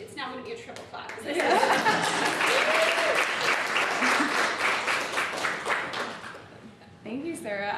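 Audience at a university speaking event clapping in a full round of applause with some laughter, swelling after a brief spoken introduction and fading before a voice resumes.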